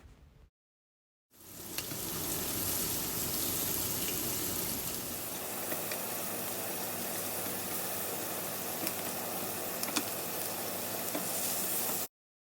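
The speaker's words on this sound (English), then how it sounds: "just going to go ahead and keep the shrimp plain by just grilling it" Plain shelled, deveined shrimp grill in a hot pan, a steady close sizzle that runs unbroken after a brief silent start, with no talking.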